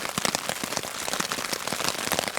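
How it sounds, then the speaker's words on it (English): Heavy rain drums steadily on the fabric of a hammock hot tent at a winter snow camp, a dense close patter of drops with irregular louder taps throughout. "You can hear the rain, it's really coming down now."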